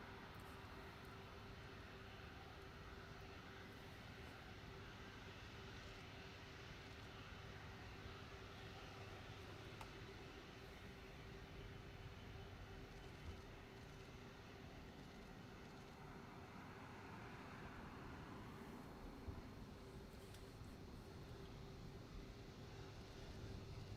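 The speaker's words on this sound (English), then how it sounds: "We can just about hear the aircraft now." A faint aircraft drones steadily overhead at a distance, a continuous low rumble blended with broadband background noise for the whole stretch, with no talking.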